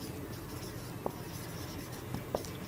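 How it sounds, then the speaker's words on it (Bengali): A pen scratches across paper as a formula is written by hand, faint soft strokes with a few brief taps over quiet room noise. "আমরা জাস্ট সূত্রটা লিখি"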